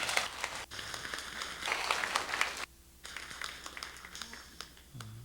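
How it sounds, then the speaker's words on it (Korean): Church congregation clapping at a Sunday worship service: fairly quiet, moderately dense applause that cuts out abruptly for a moment, then resumes more softly, with a voice appearing near the end. "하나님께 영광의 박수 한번 올려드립니다."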